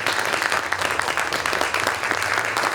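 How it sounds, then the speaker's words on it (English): An audience at a Class of 2023 community reflection morning gives the panelists a big round of applause, a full, continuous patter of many hands at steady loudness. "can everyone give me a big round of applause?"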